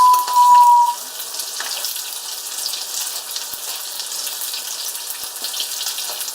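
Coated pork balls fry in hot oil with a steady, close hiss and crackle that runs throughout, opened by a short tone at the very start.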